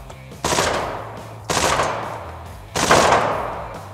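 Three loud, separate gunshots ring out at an indoor gun range in Las Vegas, each a sharp blast followed by a reverberant decay, about a second apart, with no talking.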